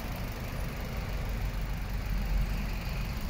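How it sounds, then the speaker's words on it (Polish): Mitsubishi 1.6 MIVEC petrol engine with chain drive and conventional injection, idling under the hood of a Citroen C4 Aircross; a steady, quiet low hum and rumble with no talk over it. "Przejdźmy może teraz jeszcze pod maskę, bo ten silnik chodzi tak cicho, zresztą jak każdy Japończyk"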